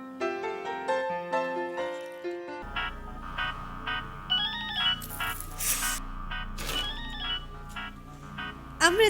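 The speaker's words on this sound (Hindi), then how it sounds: "अमृता, मुझे लगा कि इनका फोन होगा।" A phone ringtone playing a bright electronic melody of repeated tonal notes, loud and continuous, with a low hum and some sharp rustles joining partway through.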